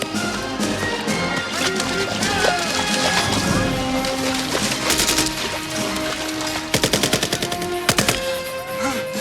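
Bursts of rapid automatic gunfire crackle amid a dense, chaotic action-film soundtrack, a jungle prison-camp battle with Soviet troops and Viet Cong, with louder rattling volleys toward the end.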